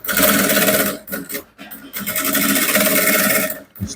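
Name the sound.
sewing machine stitching the closure of a flap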